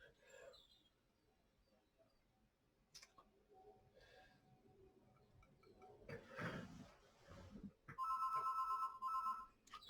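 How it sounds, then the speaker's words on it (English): A telephone rings in bright repeated electronic bursts near the end, preceded by scattered clicks and faint handling noises in a quiet room. "Phone's ringing."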